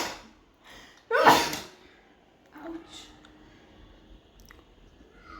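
A single sharp sneeze bursts out near the mic in a home kitchen where vada pav is being made, followed by quieter rustling and a few faint vocal sounds.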